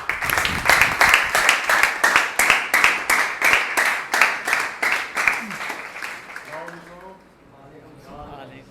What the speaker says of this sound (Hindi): तो सर भरपूर तालियों में आपको बुलाना चाहूँगा सर मिस्टर फारूक शहजाद।